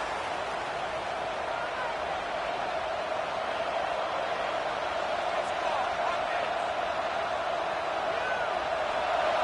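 A home stadium crowd roars on third down at a football game, with dense, steady, loud crowd noise filling the whole stretch without letup.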